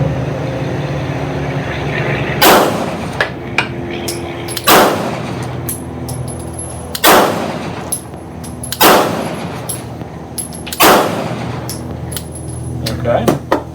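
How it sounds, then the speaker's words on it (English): Unsuppressed rifle firing 147 grain Remington UMC ammunition at an outdoor range: five loud, sharp shots spaced a couple of seconds apart, each with a ringing tail, over quiet background. "So this is 147 grain Remington Umc. So we're going to fire this without a suppressor,"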